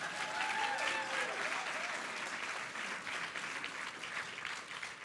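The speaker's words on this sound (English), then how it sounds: "You can applaud." A large audience at an Aspen Words summer benefit with a literary author gives sustained, even applause, a thick wash of clapping hands from start to finish.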